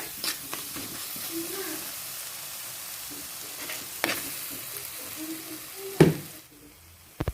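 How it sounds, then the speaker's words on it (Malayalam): Onions sautéing in a pan for a fish curry give a soft, steady sizzle with occasional stirring scrapes and a louder clatter near the end, heard alone at a moderate distance. "നമ്മുടെ സവാള ഏകദേശം ഒന്ന് വഴണ്ട് വന്നിട്ടുണ്ട്"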